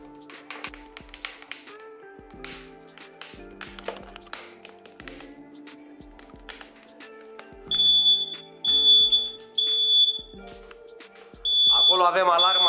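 A smoke alarm in a home with a stove being cleared with naphthalene sounds repeated shrill beeps in the second half, after scattered taps, clunks and a voice talking nearby.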